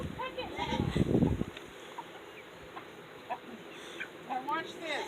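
Chickens in a goat pen on a dairy goat farm cluck nearby, with a loud flurry of clucking at first and then sparse, scattered clucks against quiet.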